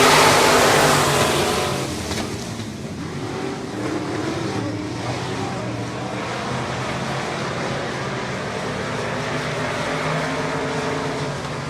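A race car engine revs up and roars loudly during a dirt speedway heat race, louder at first and then settling into a sustained, droning drive from several engines.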